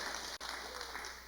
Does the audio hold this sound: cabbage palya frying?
no